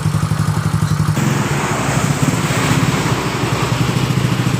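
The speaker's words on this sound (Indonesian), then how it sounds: "saya mau tes jalan yang berlubang, apakah motor ini mati atau tidak" A fuel-injected Yamaha Mio Soul GT scooter engine runs close by on a test ride over a potholed road, giving a steady, buzzing putter with a slight change in tone partway through.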